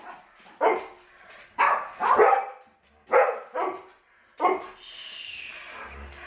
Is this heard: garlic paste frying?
no